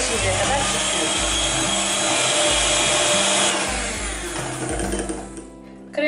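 An electric hand mixer whips cream for a Turkish palace roll dessert, a continuous close whirring motor hum that holds steady for several seconds, then slows and cuts off near the end.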